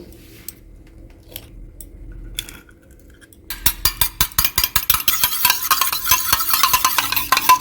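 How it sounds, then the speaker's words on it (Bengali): A single egg beaten in a bowl for milk pudding: a few scattered taps at first, then a quick, steady run of close, crisp fork-on-bowl clicks that grows busier toward the end. "এবার আমি একটা পাত্রের মধ্যে একটা ডিম ফেটিয়ে নেবো"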